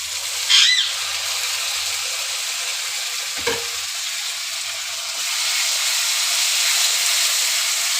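Ground spice paste hits a hot pan of potatoes and sizzles in a loud, steady hiss, with a brief stir partway through and the frying continuing unbroken to the end.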